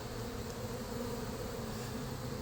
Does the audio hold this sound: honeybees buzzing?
yes